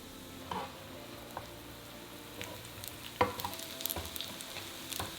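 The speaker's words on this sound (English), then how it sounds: "Place the spring rolls in the pan. Pan fry until crispy for about 4 minutes in total." Purple sweet potato spring rolls pan-fry in oil over medium-high heat, a soft steady sizzle with scattered sharp pops and crackles that get busier toward the end.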